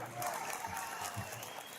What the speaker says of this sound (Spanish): Fuerte el aplauso para el señor ingeniero Alberto Papa.